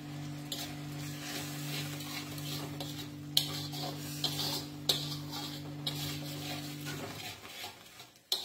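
Tadka masala for a biryani-spiced dish simmering in a pan after hot water goes in: a steady faint sizzle and bubbling under a constant low hum, broken by a few sharp utensil clicks. The hum stops near the end.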